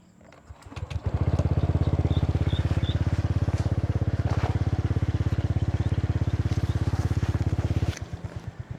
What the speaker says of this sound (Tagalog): painitin na natin yung motor